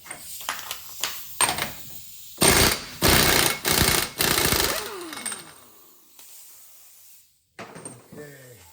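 An impact wrench hammering off a 36 mm hub nut on a 2008 Silverado 1500 4x4, several loud close bursts of rattling impacts with short gaps, followed by quieter clinks and handling noises.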